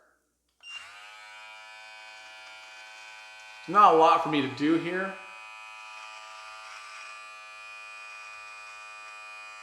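Beard trimmer with the guard fully closed running on a mustache gives a steady close-up electric hum, and a brief burst of louder buzzing shows it cutting hair as someone talks.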